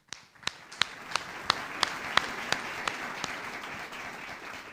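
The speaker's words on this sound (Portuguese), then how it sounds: "Uma salva de palmas ao Espírito Santo" A church congregation claps in a loose, rhythmic beat, about a dozen sharp, evenly spaced claps standing out over a softer wash of scattered hand claps.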